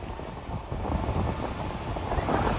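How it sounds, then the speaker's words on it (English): Gusty wind buffeting the microphone at a seaside airport, a steady low rumble that swells slightly after the first second and stays moderately loud throughout. "As it's already windy"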